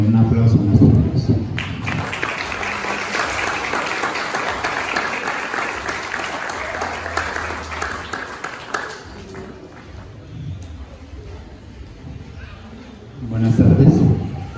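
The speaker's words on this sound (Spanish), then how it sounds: "Démosle un aplauso a nuestro Dios." A congregation at a quinceañera celebration breaks into loud, sustained clapping that holds for several seconds and then tapers off. Spoken voices come before and after it.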